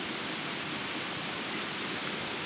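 A waterfall beside a riverbank in the woods, a steady broadband rushing roar of falling water, even and unbroken throughout with no voices.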